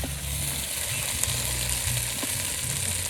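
Fish frying in a pan sizzles steadily and close by through the whole clip, with low background noise underneath.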